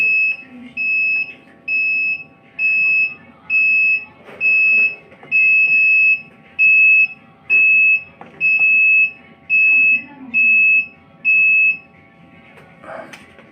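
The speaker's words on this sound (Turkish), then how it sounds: "Alarm verdi." A steady electronic alarm from a homemade automatic egg incubator, converted from 220 volts to 12 volts, beeps in regular pulses, about a dozen evenly spaced tones, loud and close, with faint background noise.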